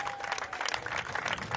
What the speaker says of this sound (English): give a round of applause to the Honorable Minister for Tourism coming up with his delegation to this program